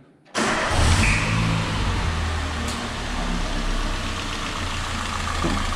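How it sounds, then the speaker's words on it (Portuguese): A Peugeot 206 three-cylinder engine cranks and catches after a brief silence, then settles into a steady, close, fairly loud idle with a low rumbling hum and no talking. "A gente vai ligar aí pra mostrar pra vocês a diferença do barulho agora."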